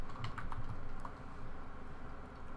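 Brisk typing on a computer keyboard while entering Ruby code, with quick, close key clicks that come in short bursts over a low room hum.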